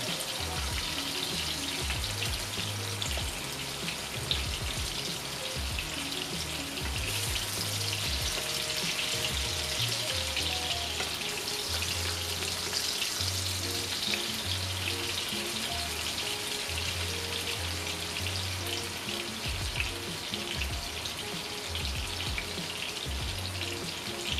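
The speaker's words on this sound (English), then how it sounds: "now that we've got the both sides of the pork chop nice and seared" A pork chop sears in a frying pan with a steady, close crackling sizzle that carries on without a break, along with occasional soft clinks and low knocks.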